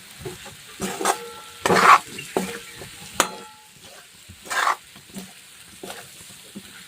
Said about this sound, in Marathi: याच्यात जे ढेमसे चिरले ते टाकू आता छान असं मिक्स करून घ्यायचं हे